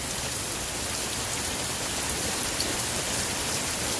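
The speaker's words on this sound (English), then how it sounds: "I got to be out in the pouring rain to try to protect." Pouring rain from a June rainstorm drums steadily on nearby surfaces, a constant close wash of drops with a few faint louder splashes and no voices.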